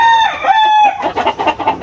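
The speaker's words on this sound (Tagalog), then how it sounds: "Ito mga sisiw na napisa dito mga kalaki ay pwede natin i-share." Newly hatched day-old chicks, pure and crossbred, peep loudly and close by in a continuous shrill chorus of overlapping chirps.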